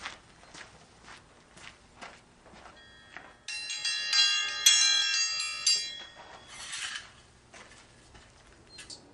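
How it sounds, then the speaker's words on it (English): An old-fashioned service bell at a blacksmithing display rings out in a bright, sustained metallic burst lasting a couple of seconds, surrounded by soft footsteps and light clatter before and after. "Follow me while I ring the bell for some service."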